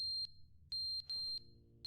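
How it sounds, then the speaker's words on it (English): A smoke alarm with a failing battery in a game's room chirps in a few sharp, high electronic beeps, irregularly spaced over a soft low hum. "Oh, the fire alarm battery's dying."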